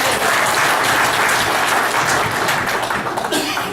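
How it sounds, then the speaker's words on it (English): Audience applause at a community fundraiser event, a dense, steady wash of many hands clapping at close range, holding strong for several seconds before easing slightly at the end. "Let's give them a hand clap."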